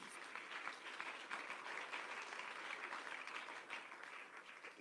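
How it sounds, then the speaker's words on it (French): Applause from an audience at a church youth gathering, steady, dense clapping that stays even for several seconds, heard from within the room and fairly faint overall. "Vous faites bien d'acclamer justement."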